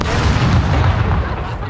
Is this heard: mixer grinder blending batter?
no